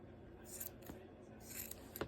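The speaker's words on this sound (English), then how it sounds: "And then you're gonna wanna trim your pom-pom." Scissors snip repeatedly around a crochet pom-pom, trimming the yarn ends in a few quick, close cuts with short pauses between them.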